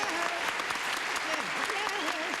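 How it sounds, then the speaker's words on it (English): Brisk studio audience applause on a 1974 television game show, greeting two new panelists, steady and dense throughout with voices faintly audible beneath it. "Us old regulars will give them a brisk round of applause"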